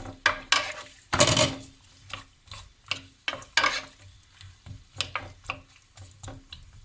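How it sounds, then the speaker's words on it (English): Onion frying in oil in a pan for biryani, with repeated sharp scrapes and clacks of a utensil stirring, plus a faint sizzle between strokes. "So while the onion is frying"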